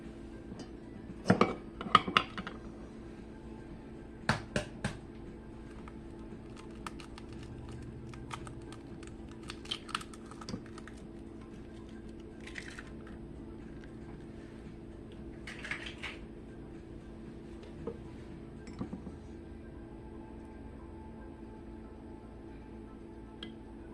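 Eggs being separated for lemon ricotta pancakes, heard as sparse, quiet clinks of utensils against bowls, soft shell taps and small wet sounds spread over a long calm stretch with a low steady hum and no speech.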